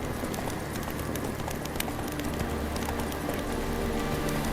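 Roach the horse gallops in The Witcher 3, with rapid, steady hoofbeats close by, over a dense wash of game ambience and no pauses.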